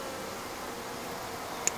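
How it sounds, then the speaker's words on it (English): Honeybees buzz in a dense, continuous drone during a swarm capture, steady and close with no voices. "Now that I have the bulk of the bees"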